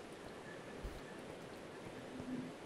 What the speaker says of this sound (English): now that the weather doesn't sound as obnoxious anymore, I actually don't mind rain